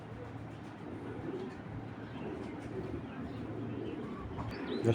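Soft, low cooing from Khaki pigeons runs steadily under a constant hum of background noise, with a slightly louder burst near the end.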